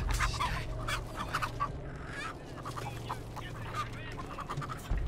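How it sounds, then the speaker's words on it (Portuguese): Chickens cluck and squawk in the Texas Chainsaw Massacre video game, with busy repeated calls over steady background game noise and no talk. "A galinha não grita comigo."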